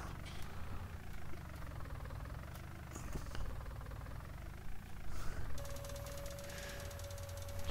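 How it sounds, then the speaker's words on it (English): In Farming Simulator 19, a tractor engine chugs with a rough, knocking rumble at a steady moderate level, and a thin whine joins in near the end. "This tractor got good power."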